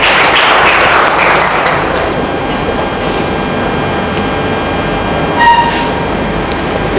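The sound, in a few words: audience applause at a seminar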